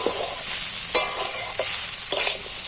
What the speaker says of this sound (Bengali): মশলাটা কষে নিয়েছি